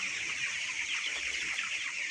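Chickens cluck softly in a flock at night in a poultry house against a constant whirring hiss from electric fans, with no talking.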